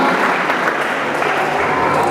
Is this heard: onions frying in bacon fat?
no